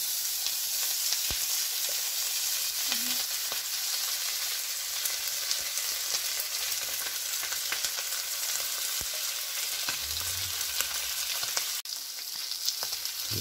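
Lechon sisig fries on a hot skillet greased with butter, giving a continuous loud sizzle with scattered spatters and pops, a few light knocks of utensils, and a sharp clack near the end.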